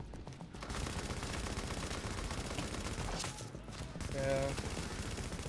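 Rapid, sustained automatic gunfire in The Division, with dense bursts running almost continuously at close range, a brief lull midway, and a short spoken word over the shooting.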